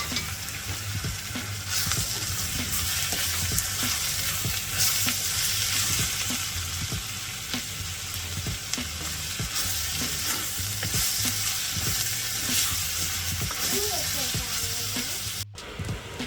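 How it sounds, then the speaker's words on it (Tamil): Chopped tomatoes sauté with softened onions in a pan, giving a continuous close sizzle with regular spatula scrapes and taps throughout, and faint bits of voice now and then underneath. "வெட்டி வச்சிருக்கிற தக்காளி பழத்தை போட்டு வதக்கணும்"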